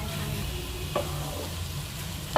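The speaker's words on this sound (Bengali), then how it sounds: "ভালোভাবে এটাকে এবার মিশিয়ে নেব।" Spice paste being mixed with two teaspoons of sattu for a rohu fish curry, a steady, fairly loud scraping and stirring noise with a couple of brief knocks, heard alone without talking.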